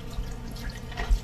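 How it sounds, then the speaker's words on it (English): Short splash of vodka poured from a bottle for a Toasted Russian cocktail, a brief soft liquid trickle with a small drip at the end, close and quiet. "So we're going to start with a little splash of vodka"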